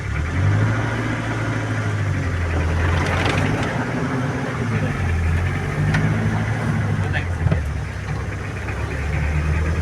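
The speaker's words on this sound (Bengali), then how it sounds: "আমাদের গাড়িটা ম্যানুয়াল গাড়ি, 6 গিয়ারের গাড়ি, 10 সিটের গাড়ি, নাবানা গাড়ি।" A manual six-gear, ten-seat car drives during a rainy driving lesson, its engine giving a steady, loud low hum with gear-change shifts in pitch for the whole stretch.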